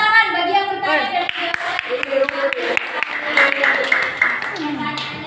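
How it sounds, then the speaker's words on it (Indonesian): A classroom of students claps for a classmate who asked a question, rhythmic sharp hand claps repeating steadily over a few seconds while a teacher's voice talks over them. "tepuk tangan bagi yang bertanya dan"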